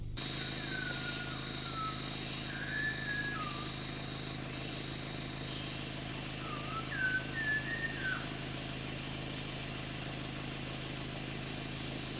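Faint, sweet whistled notes of a Malabar whistling thrush rise and fall in short phrases over a steady engine-like drone, in the evening at Parambikulam.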